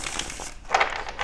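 A deck of tarot cards gets one quick, papery shuffle up close, a brief crisp flutter of rustling card edges with no voice.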